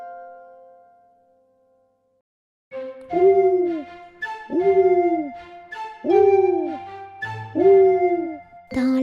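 A French children's song about a cuckoo answering an owl, with four sung, swooping hoot-like calls that imitate an owl, repeating evenly over a musical backing after a quiet opening.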